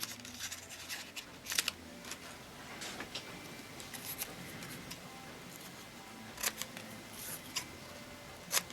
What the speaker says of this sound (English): I'm going to cut out Happy